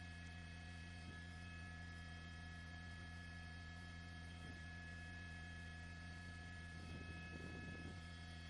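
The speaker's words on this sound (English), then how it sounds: "We actually have Captain Killian flying the helicopter today." A news helicopter hovering over a brush fire near Corona gives a steady, droning rotor and engine hum throughout, with a slightly rougher pulsing patch near the end.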